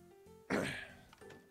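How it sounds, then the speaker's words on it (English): A single short, rough throat clearing close to the mic, faint background hum around it. "if you hear me clearing my throat"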